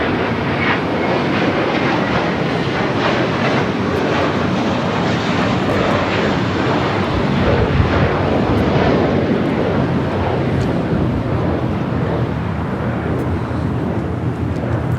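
A Western Global Airlines Boeing 747 freighter arrives at LAX from Anchorage, a continuous heavy broadband engine roar staying loud and close throughout.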